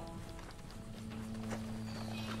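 Horse hooves galloping in Red Dead Redemption 2, a quick, faint clip-clop rhythm set against a steady low engine-like drone, with no talking over it.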